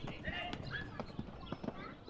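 Hoofbeats of a chunky ten-year-old Irish sport horse on a CSI4* 1.45 m show jumping course, a loose string of muffled thuds heard faintly under a commentator's steady talk.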